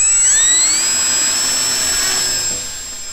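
A Hawker Hurricane Mk IIB RC model plane, 750mm electric, launched at three-quarter throttle: a loud, steady high-pitched motor and propeller whine that rises in pitch, holds, then fades slightly as it climbs away.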